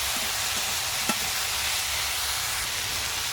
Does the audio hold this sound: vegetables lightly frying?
yes